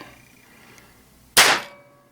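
A single sharp shot from a Crosman TR77 air rifle during a trigger test, a sudden loud crack that rings out briefly against a quiet room.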